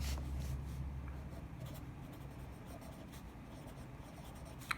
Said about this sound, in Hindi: यहाँ पे हम लिखेंगे